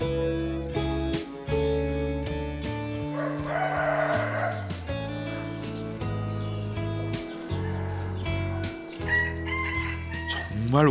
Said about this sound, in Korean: 정말 오랜만에 닭울음 소리를 들으며 깼습니다.